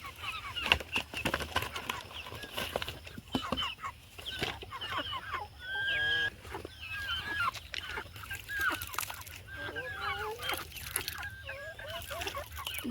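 Chickens crowd together at feeding time on a poultry farm, with repeated clucks and squawks rising over a rustling, scratching background of the packed flock.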